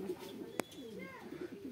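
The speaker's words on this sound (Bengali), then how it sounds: "তো রিঙ্কুদা এই পায়রা দুটো কি পাট্টা পায়রা নাকি রানিং পায়রা?" Pigeons, pattā show birds, kept at a home loft, cooing softly and close in low rolling throaty phrases, with one sharp click and faint background murmur.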